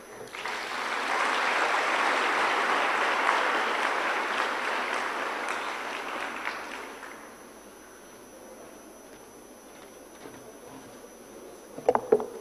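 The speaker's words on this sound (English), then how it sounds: "A big round of applause for him one more time" Sustained audience applause at a youth forum closing ceremony rises as a broad, steady wash for several seconds and then fades away, leaving quiet room tone and a couple of sharp knocks at the end.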